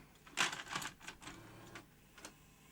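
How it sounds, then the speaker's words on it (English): Grundig 2x4 Super V2000 video recorder mechanism knocking against its metal screening can, a quick burst of close, sharp mechanical clacks followed by a couple of fainter taps. "Something's colliding this screening can."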